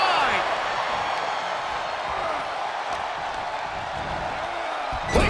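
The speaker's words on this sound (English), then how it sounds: "What a raucous crowd here tonight." Arena crowd noise from a WWE 2K24 steel cage match, a steady broad roar of cheering that holds throughout at an even level under commentary.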